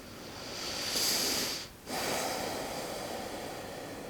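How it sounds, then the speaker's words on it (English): Deep yoga belly breathing heard close up: a long, airy inhale swelling over about a second and a half, a brief pause, then a steady drawn-out exhale trailing off, with no talking. "let's just focus on that belly breath."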